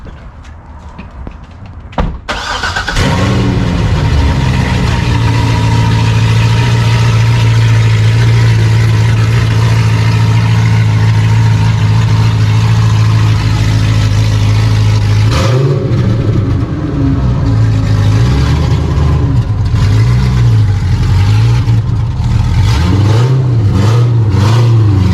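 A Corvette's engine turns over and settles into a loud, steady idle close by. Partway through it revs and the pitch rises and falls as the car pulls away.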